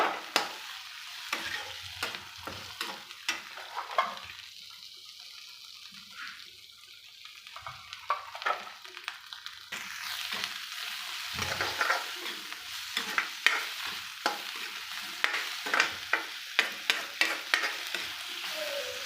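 Two chopped tomatoes being stirred and sautéed in a pan while making thuthuvalai thuvaiyal, giving a soft, steady sizzle with scraping stir strokes that pause briefly midway before resuming, close and clear with no talking.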